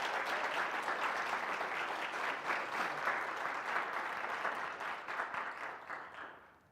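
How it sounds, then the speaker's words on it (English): A church congregation applauds during a Sunday service, warm sustained clapping from many people that swells, holds, then tapers away at the end. "let's just give Chrissy a round of applause for the work in which she is doing"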